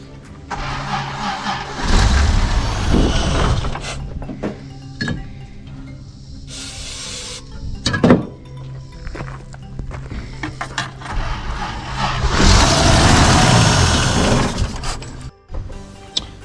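A 1981 Toyota Land Cruiser FJ60 engine cranks on a new starter, loud grinding whirs rising in a couple of long bursts with a quieter stretch between, close by and without anyone talking.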